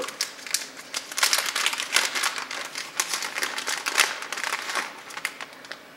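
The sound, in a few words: opening a small Ziploc bag holding a GoPro frame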